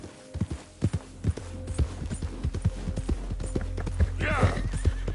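Horse hooves clip-clop in a steady galloping rhythm in Red Dead Redemption 2, close and clear over a low continuous rumble, with a brief whinny near the end and a voice speaking over it.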